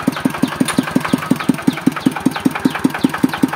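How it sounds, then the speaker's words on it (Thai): An RT95 engine fitted to a modified vehicle idles close and loud just after starting, with a quick, even thumping beat that repeats steadily throughout. "นี่สตาร์ทติดด้วยนะ นี่เครื่อง RT95 นะครับเนี่ยโอ้เครื่องนิ่มเลยครับ"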